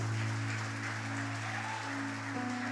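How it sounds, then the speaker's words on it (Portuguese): A church congregation applauds during a sermon, a dense wash of clapping under the steady hum of the sound system. "E aplauda a Jesus por isso."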